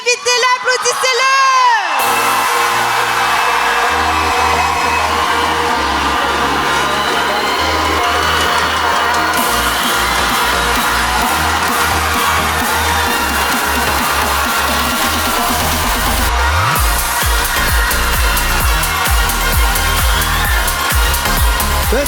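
A large audience cheers, whoops and applauds loudly and continuously to welcome honorary president Louis-Jean Cormier at the closing ceremony of the 25th edition of the RVPQ in Sept-Îles, with the crowd noise filling the whole stretch.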